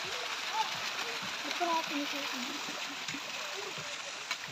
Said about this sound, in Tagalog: Bukal yata rin tubig na to eh. Ang linaw niya, oh.